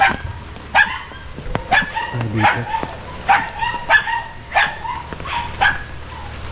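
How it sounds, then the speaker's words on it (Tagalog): A guard dog barks repeatedly at close range in irregular bursts, some sharp yips and whimpering notes mixed in, with a person speaking briefly between barks. "safe at may aso na gwardiya oh"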